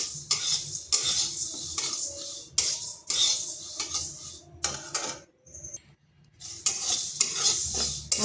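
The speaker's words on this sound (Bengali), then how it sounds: "মুগ ডালটাকেও একটু ভেজে নেব" Mung dal being dry-fried and stirred in a pan, with repeated scraping strokes of a spoon against the metal, a faint sizzle, and a short pause midway.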